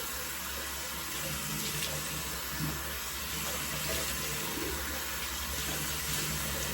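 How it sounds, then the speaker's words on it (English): Hot water runs from a sink tap in a steady, even stream, a constant hiss that continues unbroken for several seconds with faint bathroom room tone underneath. "Let's go ahead and let the hot water run a bit so I can wash my face."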